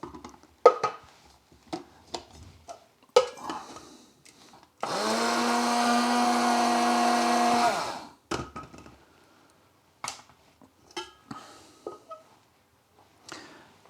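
A blender whirls a Kashmiri chili powder mixture for tandoori chicken. One loud, steady burst runs about three seconds, with quiet clicks and taps before and after it.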